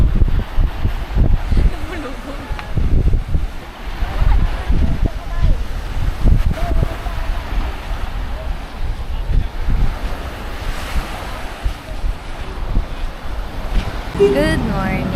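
Strong wind buffets the microphone over rough surf at Puka Beach, Boracay, with loud continuous roaring and gusting; a person talks under the noise.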